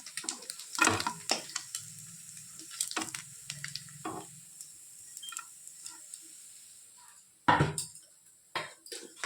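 Puti fish frying in oil are lifted out onto a plate, with sharp metal utensil clinks and scraping against the pan, followed by a faint low sizzle in between and a louder clatter near the end.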